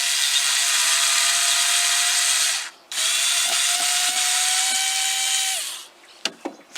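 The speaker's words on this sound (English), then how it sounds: "just using my screwdriver and making some drainage holes" A handheld powered screwdriver drilling drainage holes into the base of a plastic supermarket plant pot, whining steadily for several seconds, dropping briefly, then running again in a long close burst before stopping with a few clicks.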